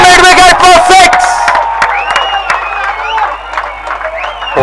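Cricket crowd cheering after a batsman pulls a six over mid-wicket, a loud swelling roar with whistles and hubbub that gradually eases while a commentator talks over it.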